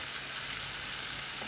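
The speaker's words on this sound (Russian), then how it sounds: "Вторую партию тоже так жарим" A second batch of zucchini fries in a pan, giving a steady, even sizzle of hot oil that holds at a moderate level with no talking.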